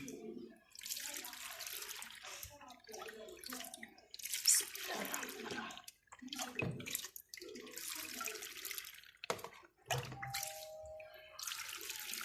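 Water from a kitchen tap runs in bursts into a container while filling, splashing and gushing with short pauses between flows, close and fairly loud.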